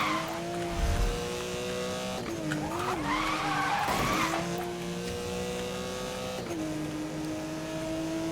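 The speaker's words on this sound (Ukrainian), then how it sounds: "Так, боком заїжджаю, боком ось так." Car power-sliding sideways in the video game Need for Speed: Most Wanted (2012), with a steady engine drone and a long tire squeal that swells and bends mid-drift, loud and continuous with no talk over it.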